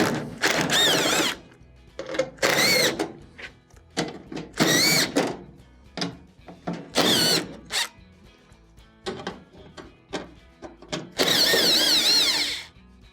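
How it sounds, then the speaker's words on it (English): A power driver backs quarter-inch screws out of the back plate of a GE dryer, in a series of short, loud whirring bursts separated by quiet gaps, each run lasting about a second. "Got a couple of 1/4-inch screws going around. You'll have to take these out."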